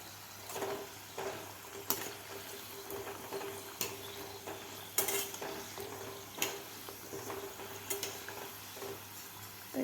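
Coconut modaks fry in a pan of hot oil with a soft continuous sizzle, broken by close clinks and scrapes of a spoon stirring and turning them at an irregular pace, with no talk.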